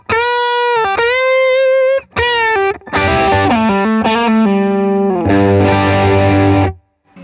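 Heavily distorted electric guitar with humbucker pickups, a 2023 pilot-run Crews Bottoms Up model, plays sustained notes and chords in short phrases with brief pauses, loud and close, with no voices.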